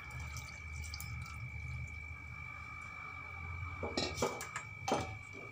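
Jaggery gulgule batter being mixed in a bowl: soft, steady scraping and stirring that ends in a few louder clinks and knocks of the utensil against the bowl, with no voices.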